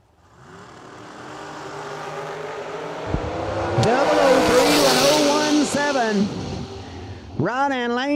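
A drag racing car at a fall drag racing event, a rising engine roar that builds to a loud, raspy peak and then fades, while an announcer talks over it.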